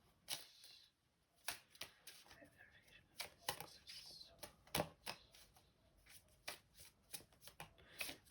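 Tarot cards shuffled by hand in repeated quick riffling bursts, crisp papery flutters and taps coming in irregular clusters, fairly close, with no voices over it.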